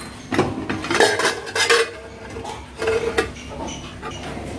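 Metal clatter and clinks of a pot lid lifting off a cooker holding red-stem spinach koottu, a few short bursts of clanking over a quiet kitchen background.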